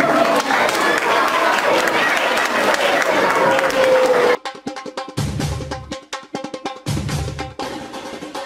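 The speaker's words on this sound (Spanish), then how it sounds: "Un fuerte aplauso." At a school Carnival festival, the audience claps loudly and steadily with crowd murmur for about four seconds. The applause then cuts off abruptly into a quieter passage with choppy, rhythmic sounds and bursts of activity.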